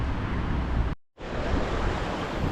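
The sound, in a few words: water flowing over a small dam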